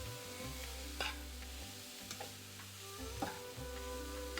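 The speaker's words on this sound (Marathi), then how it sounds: "तुपामध्ये ह्याला असं एकत्र करून भाजून घ्या." Beetroot mixture roasting in ghee in a pan, a low steady sizzle with a few scraping stirs of a spoon, quiet and close.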